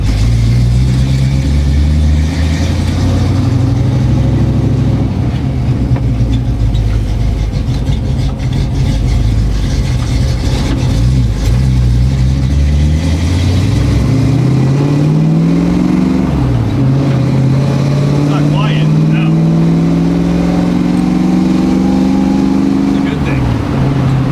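A muscle car hot rod's engine idles and revs on a first test drive. A loud, close engine note rises and falls through several throttle swells, with people talking over it.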